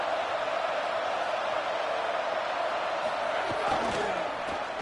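Stadium crowd at an NCAA football game involving the Buckeyes, a dense sustained roar of cheering fans filling the whole moment, loud and broad with no clear individual voices standing out.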